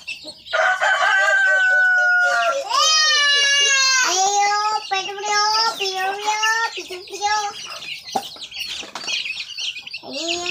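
Month-old native chicken chicks chirp close by in a busy, high-pitched chorus of overlapping rising and falling peeps, thinning into scattered calls toward the end.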